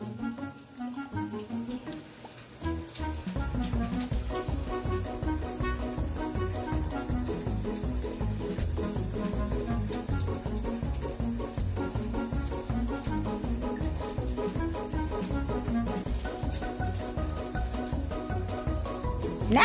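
A kitchen sink faucet running steadily, water splashing into the basin in a continuous near hiss that swells after a few seconds and holds, with no talk.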